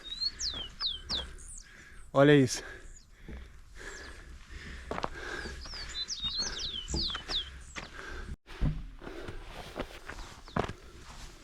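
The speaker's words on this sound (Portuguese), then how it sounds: "Além da minha respiração, é possível ouvir os pássaros." Birds chirp and trill along a steep hiking trail on the Caminho da Fé pilgrimage route, with high scattered calls over footsteps and heavy breathing, a short burst of louder song midway, and a brief spoken remark.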